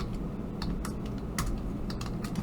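Fingers type on a computer keyboard while working through a math proof, making a close, steady patter of key clicks at an irregular pace with no talking.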